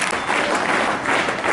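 Loud, close applause from an audience at a school cycle distribution ceremony, a brief dense burst of many people clapping together without pause.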